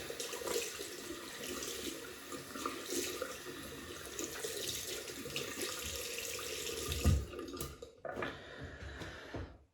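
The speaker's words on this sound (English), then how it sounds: "I'm going to rinse the brush." Water from a tap runs over a shaving brush, making a close, continuous splashing rush that shifts as the brush is worked under the stream, then drops off sharply near the end before a brief final trickle.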